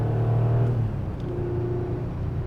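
Porsche 911 (964) engine revving out on a test drive, a steady mid-loud drone that rises in pitch and then settles into a lower cabin rumble, with no voices.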